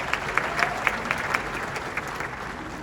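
Crowd applause at an All District 2020 school band event: a full, even roar of clapping from a large audience in a hall, sustained and fairly loud with scattered sharper claps standing out.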